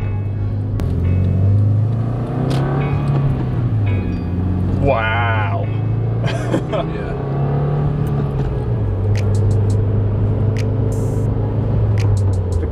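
A 2015–2020 Subaru WRX with a Cobb Accessport Stage 1 tune accelerating from first into second gear, its engine droning and rising in steady pitch from inside the cabin while someone talks over it.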